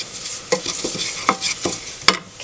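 Spices toast in a hot pan for a lobster étouffée sauce, a soft sizzle broken by several quick scraping stirs of a utensil, close and without talk.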